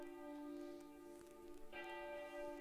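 Church bells chime in a steady, ringing peal, resonant tones overlapping and sustaining, heard alone at a fairly soft level.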